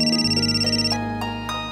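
A telephone rings back after a call is placed, a steady electronic ringtone with sustained tones that shift partway through, close and clear with no one speaking.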